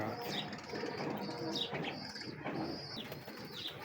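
Steady low cooing from a group of costly Gwal Mandi pigeons, close and continuous, with faint wing flutters and chirps mixed in.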